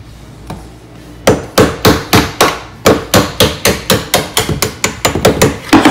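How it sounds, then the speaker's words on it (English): Repeated sharp metallic hammer blows, close and loud, punching out a door hinge pin at a steady rhythm after a single early tap, about fifteen hits in quick succession. "all you need is a hammer and just something to be able to punch it out with"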